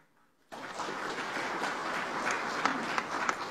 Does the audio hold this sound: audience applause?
yes